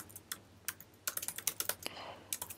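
Rapid keystrokes on a computer keyboard as merge sort code is typed, starting as a few scattered taps and then quickening into dense bursts of close, crisp clicks with no talking.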